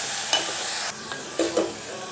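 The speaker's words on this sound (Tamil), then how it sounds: "வெங்காயம், சின்ன வெங்காயத்தை அரைச்சி பேஸ்ட்டாக சேர்த்துக்கோங்க. இதையும் வதக்கி எடுத்துக்கோங்க நல்லா." Ground small-onion paste and ginger-garlic paste sizzle steadily in hot oil in a pan while being stirred for tomato rice. A few louder scraping stirs break through the continuous close frying hiss, and no one speaks.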